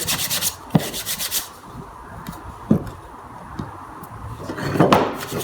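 Scrubbing baked-on sawdust off an old oil stone, heard as bursts of close, dry rubbing and scraping strokes with a few sharp knocks in between.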